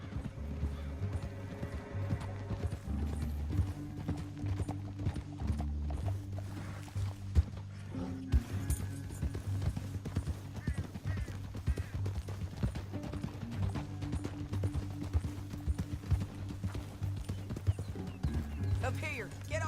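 Horse hooves gallop in the Red Dead Redemption video game, a steady rapid clip-clop close by with occasional whinnies, running under game dialogue and a low musical score.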